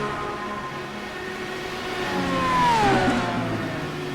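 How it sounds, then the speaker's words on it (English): Indy race car in the iRacing Indianapolis 500 video game, engine note climbing and dropping with a gear shift as it passes, moderately loud and rising to a peak near the end before falling away. "Heard a car shifting, come into the pits."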